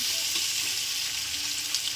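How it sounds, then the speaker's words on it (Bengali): Onions with whole cumin fry in hot oil in a pan after fish has been removed, a constant bright sizzle with faint stirring scrapes, steady and close throughout. "পেঁয়াজটা ভাজা ভাজা করে নেব।"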